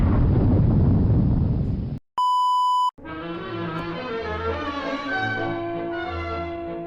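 A LEGO City video game in GTA mode sets off explosives: a loud, close, low rumbling blast, a short electronic tone, then a long sustained rumbling roar with music-like tonal layers, no talk.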